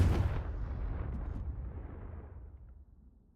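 A booming Confringo blast-spell explosion in the video game Hogwarts Legacy, one loud, deep burst at the start that rumbles and slowly fades over a few seconds.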